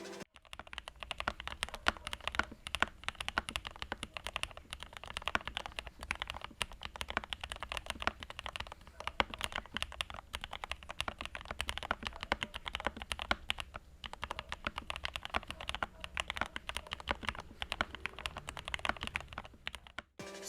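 Fingers type on a modded Lychee G66 mechanical keyboard, producing a fast, continuous patter of quiet keystrokes at close range that carries on with no talking.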